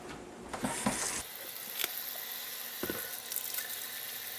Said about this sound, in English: wash your hands with warm water